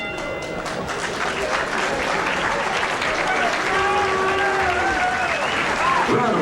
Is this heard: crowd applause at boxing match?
yes